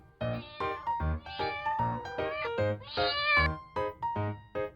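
A domestic cat meows repeatedly in a series of distinct, close and fairly loud calls, each rising and falling, with short pauses between them and no other sounds.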